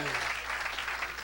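A church congregation applauding, a dense steady patter of clapping heard only briefly with voices mixed in.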